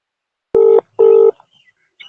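Two distinct keypad tones sound as a phone number is dialed, each a clean steady beep of about a quarter second, preceded by a sharp click and followed by quiet small handling noises.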